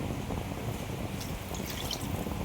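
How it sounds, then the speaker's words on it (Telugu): Water pours steadily into a pot of fish curry, a continuous trickling splash with faint dripping, close by and without talk. "సో కొంచెం వాటర్ అయితే పోసుకోవాలి ఇప్పుడు"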